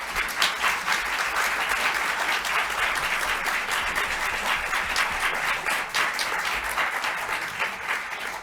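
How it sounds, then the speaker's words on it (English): Sustained audience applause fills a press conference hall after a nuclear fusion breakthrough announcement, a dense, steady wash of clapping heard alone without talk. "One more round of applause, please."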